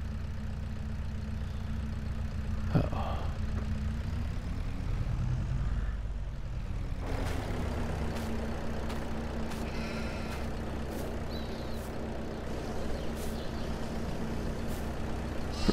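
A heavy truck hauling a trailer in Farming Simulator 22 rumbles steadily with a low engine drone throughout, a brief air-brake hiss or shift near the middle, then continued driving with faint clicks and knocks over the engine.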